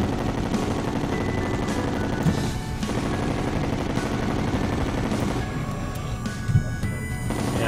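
Sustained rapid gunfire from chlorophyte bullets in the game Terraria, a dense, continuous stream of shots with a few louder bursts and a brief thinning near the end, no talking.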